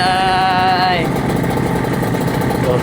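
A Honda NSR two-stroke motorcycle engine runs loud and close, with a high buzzing rev in the first second dropping to a rough, rattling idle.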